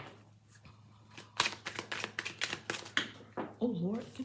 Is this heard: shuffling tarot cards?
yes